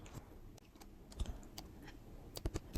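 A computer keyboard is typed on as a mobile number is entered, producing sparse, quiet clicks and taps in short irregular clusters in an otherwise calm room.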